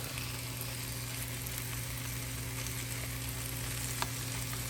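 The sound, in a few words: ground meat frying in a pan, broken up with spatula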